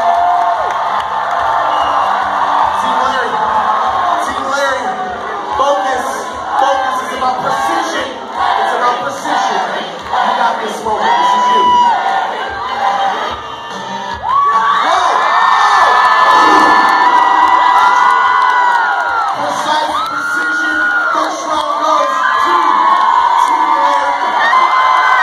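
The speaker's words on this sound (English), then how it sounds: "Make some noise. Team Sancho" A crowd at a mascot competition cheers, shouts and whoops for a team, a loud continuous roar of voices including children's screams that swells even louder partway through.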